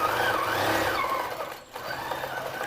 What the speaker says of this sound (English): So let me sew on over here.